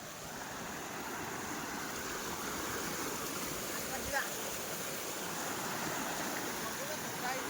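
Flood water from heavy rain flows over submerged paddy fields in Odisha, a steady, broad rushing wash that continues evenly, with a faint brief knock midway.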